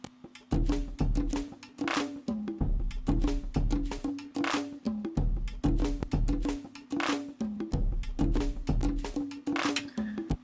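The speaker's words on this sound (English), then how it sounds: "So all the drums together sound like this." A full alternative-style drum mix with layered sampled old claps: steady kick, snare and bright clap hits in a driving looped pattern with a low bass tone underneath, loud and upfront.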